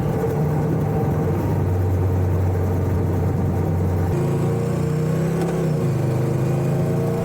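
Honda Rebel 1100 DCT cruiser motorcycle engine pulling steadily under acceleration in manual mode, with a low droning exhaust note that drops at a gear shift and builds again, heard close over continuous wind rush.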